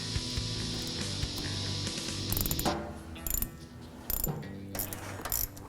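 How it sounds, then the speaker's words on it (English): Ratcheting a wrench to tighten hose clamps on fuel injection hose during a Holley Sniper EFI install on a Bronco, rapid clicking pawl bursts with brief pauses, close and clear. "And tighten up the clamps."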